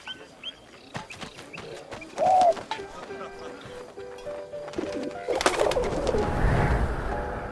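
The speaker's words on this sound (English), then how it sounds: "I don't know what I was thinking sending the bird" A pigeon flutters and coos as it is released in the video game 11-11 Memories Retold, with a brief call and wingbeats amid game ambience and a rising rumble near the end, while a voice speaks.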